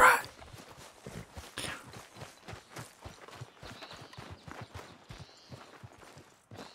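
Horse hooves clip-clop in a steady walking rhythm in the video game Red Dead Redemption 2, a fairly quiet, evenly paced series of hoof beats.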